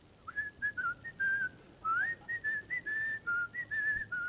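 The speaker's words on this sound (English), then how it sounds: "Listen, I've got the cheery whistle and everything." A person whistles a bright, bouncy tune in short sliding notes, fairly close, with light background hiss and no talking.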